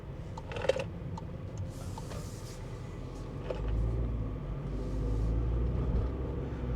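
Low, steady road rumble and engine hum inside a Skoda Fabia driving on a road, with a few faint clicks and rustles and the drone swelling slightly toward the end.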